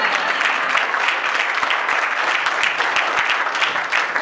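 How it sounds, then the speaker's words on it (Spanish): An audience at a bilingual motivational talk claps loudly and continuously, a thick, even wash of many hands that keeps up without pause for the whole stretch. "give yourselves a hand clap"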